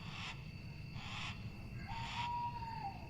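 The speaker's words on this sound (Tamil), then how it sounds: "பறவைங்க சத்தம் வந்து தொடர்ந்து கேட்டுக்கிட்டே இருக்குது." Repeated soft calls from a bird sound three times at a steady pace over a constant forest hum, with a thin whistle near the end.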